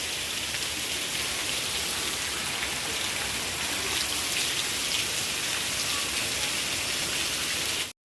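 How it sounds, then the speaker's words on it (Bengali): Heavy rain drums steadily on a tarpaulin, a dense, even roar of close raindrops that holds at constant loudness throughout before cutting off abruptly, with no voices. "দারুণ বৃষ্টি হচ্ছে"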